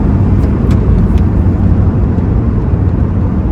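Chrysler Crossfire sports car engine giving a loud, continuous low rumble with a steady drone throughout, heard alone with no talk.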